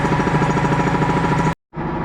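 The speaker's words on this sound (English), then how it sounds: "assuming that we have this air compressor right here, this is how you turn it on" An air compressor in a garage, prepped for a sprinkler blowout, runs with a loud, steady pulsing motor drone close by, then cuts out abruptly for a moment before resuming.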